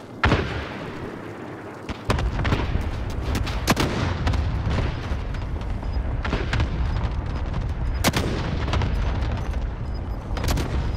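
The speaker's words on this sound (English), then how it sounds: "Shoot him down to the right." Gunfire in Call of Duty: Modern Warfare, sharp close shots and booming blasts scattered irregularly over a rumbling battle backdrop, no speech.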